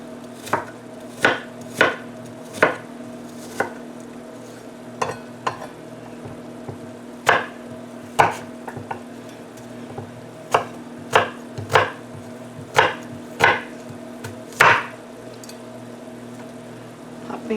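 Knife chopping an apple finely on a cutting board, a quick run of crisp taps in irregular bursts over a steady low kitchen hum.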